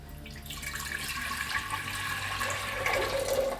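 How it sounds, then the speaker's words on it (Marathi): Water poured from a vessel into a pressure cooker in a home kitchen, a steady, fairly loud rushing stream running throughout with no voices. "सर्वप्रथम आपण कुकरमध्ये एक ते दीड तांब्या पाणी घालायचं गरम करायला"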